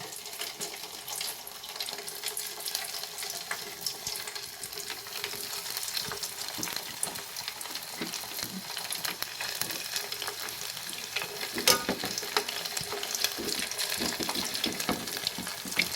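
Pieces of pork sizzle and crackle in hot frying oil while being stirred for chicharon, a steady dense hiss with scraping and popping running throughout, close and fairly loud with no voices.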